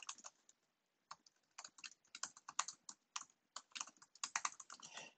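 Keys clatter on a computer keyboard as a file path is entered, quick clustered taps in uneven bursts separated by short silences, close and clear.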